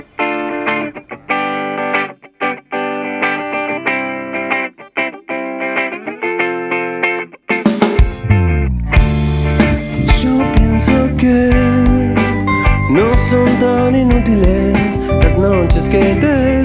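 A rock band covering a song on a studio recording: a sparse, choppy effected guitar intro breaks after several seconds into loud full-band playing with distorted guitars, bass and drums.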